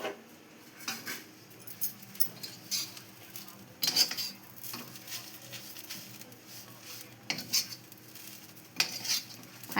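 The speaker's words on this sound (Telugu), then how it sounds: "స్టవ్ సిమ్లోనే పెట్టుకొని మెల్లమెల్లగా రోస్ట్ చేసుకోవాలి." Moringa leaves slowly roasted and stirred in a pan over a low flame, heard as intermittent scraping and clinking of a spoon against metal, with soft rustling in between and a few sharper knocks.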